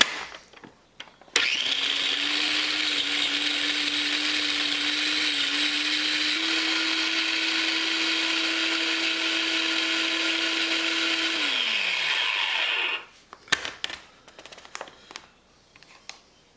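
An electric countertop air fryer cooking lemon pepper chicken thighs starts with a click and runs as a steady, loud fan whir with a constant hum, then winds down and stops with a few clicks and handling sounds.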